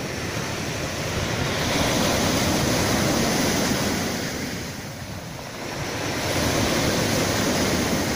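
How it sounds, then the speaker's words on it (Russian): Storm-driven sea waves surge and crash continuously on a small, broken Black Sea beach in Lazarevskoye, a loud broadband roar swelling and easing over several seconds, with wind buffeting the microphone and no voices. "Но волны поснимать здесь супер."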